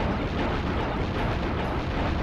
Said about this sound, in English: Good god, so many explosions.